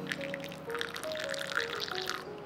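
A thin stream of water pours slowly from high up onto a fine-ground coffee bed in a pour-over brewer, making a steady, close trickle that lasts the whole time, with no talking.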